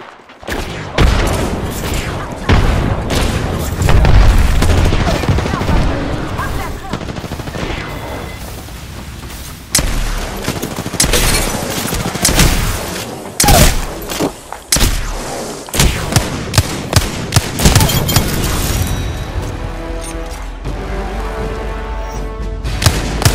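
Rapid bursts of gunfire from the video game Apex Legends fill an endgame fight, with dense automatic volleys, heavy thumps and booms rattling close and loud almost continuously.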